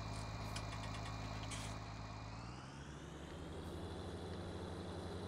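A tractor engine in Farming Simulator 19 idles and runs with a steady low drone, its pitch sliding lower partway through, heard up close with no talk.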